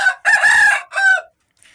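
An Aseel rooster crows loud and close, a drawn-out call broken into three bursts with short gaps, then quiet.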